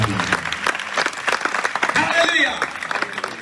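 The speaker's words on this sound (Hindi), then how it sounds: "जोरदार ताली।" A congregation at a sermon bursts into loud, dense applause, many hands clapping in a sustained roar, with cheering voices mixed in.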